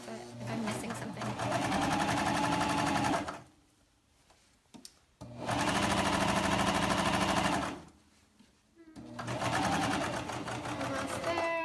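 Domestic sewing machine stitching a seam on knit joggers, running in three long steady bursts of rapid mechanical whirring with quiet pauses between, close and loud.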